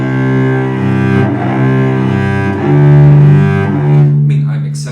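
A cello is bowed with a deliberately stiff, exaggerated arm, giving a strained, uneven tone. Long sustained notes swell and scrape, and they are played close and loud without any speech.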